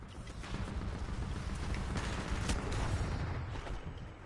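Gunfire in the video game Titanfall 2, a dense continuous barrage of rapid shots and booming impacts with sharper cracks standing out through the middle.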